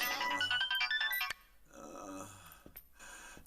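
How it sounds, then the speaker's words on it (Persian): A telephone ringtone plays a bright repeating melodic pattern, loud and alone for about a second before dropping away to quieter room sound. "این تلفن هم وقتش را یافت."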